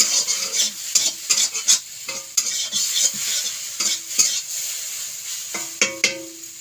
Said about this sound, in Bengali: ভাজা কমপ্লিট চাউমিনটা হয়ে গেল